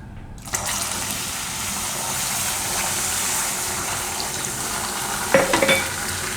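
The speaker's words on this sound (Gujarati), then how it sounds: "આમાં આપણે દૂધ નાખી દેવું એકદમ આરામથી" Milk poured slowly into caramelized sugar over low heat for caramel suji halwa, a sudden loud steady sizzle and bubbling that swells briefly with stirring clatter near the end.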